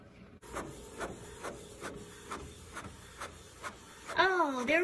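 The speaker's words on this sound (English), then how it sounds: "It just got installed, so it takes quite some time to get ready. It's preparing for printing." A Canon MP210 inkjet printer, newly fitted with an ink cartridge, prepares itself with a steady run of regular mechanical clicks and whirs repeating roughly every half second, fairly quiet and near, before a voice starts talking at the end.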